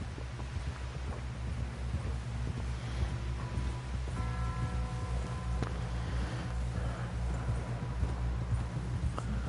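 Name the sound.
horse hooves clip-clopping, from the video game Red Dead Redemption 2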